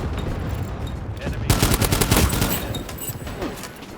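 Rapid bursts of gunfire in the video game World War 3, dense crackling shots that intensify midway and continue as a steady volley of firefight noise.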